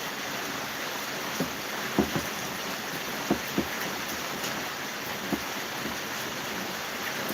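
Steady rain falls outdoors as a constant soft hiss, with occasional louder drops or taps standing out irregularly; no talking.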